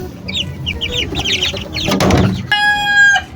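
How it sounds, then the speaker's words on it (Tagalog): Month-old chicks in a coop give a rapid series of high peeping chirps, close and clear, followed by a louder, harsher fowl call near the end, with no talking. "Yan, healthy yung ating mga pasisiw."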